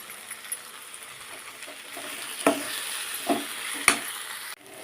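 Onion and tomato sauté in a pan for a Tamil spring onion thokku, a soft continuous sizzle broken by a few distinct stirring scrapes and clinks, close and fairly quiet, with nobody speaking.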